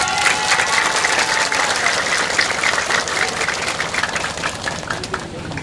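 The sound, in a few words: audience applause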